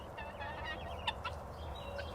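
Several chickens cluck in short, scattered calls at a moderate distance, with a few sharper, louder clucks rising above a steady low background hum.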